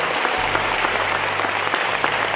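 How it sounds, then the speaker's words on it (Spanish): A church congregation in Guatemala claps steadily for about two and a half seconds. The dense, even applause sits over a faint low hum, with no talk standing out. "Dele un aplauso al Señor."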